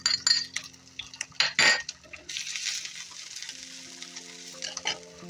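Ginger drops into garlic frying in hot oil and is stirred with a utensil, giving loud clattering scrapes against the pan at first, then a steady close sizzle.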